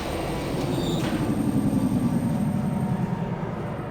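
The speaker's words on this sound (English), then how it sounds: "I'm pretty sure this is a different tram" Riding a tram in the video game Riven: continuous rolling rumble and rattle, with a brief metallic squeal near the start, steady and close with no voices.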